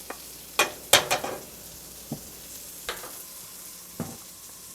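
Beef with bell pepper stir-fried in a pan, heard as a few sharp spatula scrapes and clacks, loudest early then sparse, over a faint steady sizzle with no talking.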